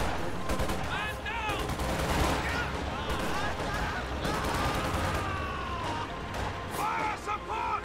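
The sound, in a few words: gunfire and fire support in a video game battle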